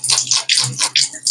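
Tap water runs and splashes in uneven bursts while a fish is rinsed during cleaning, a close, steady gushing with short breaks, no talk over it.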